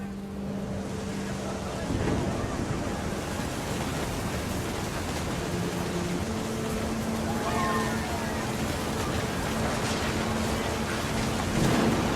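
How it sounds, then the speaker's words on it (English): Heavy rain pours steadily in the video game What Remains of Edith Finch, with deep, close rolling thunder rumbling beneath it the whole time. "The thunder sounded much too close and full of angry power"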